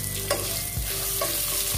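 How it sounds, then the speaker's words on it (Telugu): Sliced onions fry in a pan for coconut rice, giving a dense, even sizzle with a few soft scrapes and clicks from stirring, close by and without talk. "ఈ ఆనియన్స్ని కూడా ఇందులో వేసుకొని కాస్త కలర్ మారేంత వరకు ఫ్రై చేసుకోవాలి"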